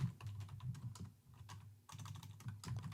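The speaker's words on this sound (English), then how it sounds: "We'll just start typing." Rapid keystrokes clatter on a computer keyboard at close range, a steady run of clicks with one brief pause.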